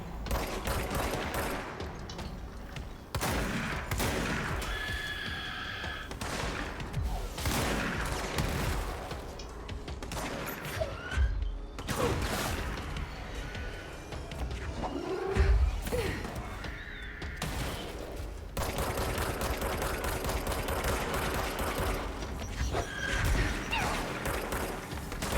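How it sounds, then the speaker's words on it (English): Explosions go off overhead in the video game Control: dense, repeated blasts and crashing bursts pile on one another almost nonstop, with heavy booms standing out throughout. "Good God, stop exploding above my head."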